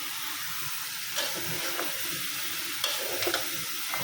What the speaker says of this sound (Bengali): মশলাটা কষানো হয়ে গেছে লাউটা এখন দিয়ে দেবো